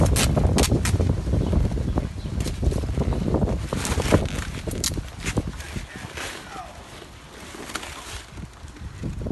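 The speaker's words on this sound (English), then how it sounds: "The wind always kicks up right when we shoot the video." Wind blowing steadily outdoors and buffeting the microphone with a constant low rumble, while a person works with tape on a Mylar balloon at the top of a column, with some handling noise.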